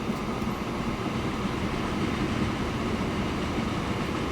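A train rolls along steadily in the rail-building game Transport Fever, a continuous, even rumble of wheels and carriage noise that holds at constant loudness throughout, with no talking.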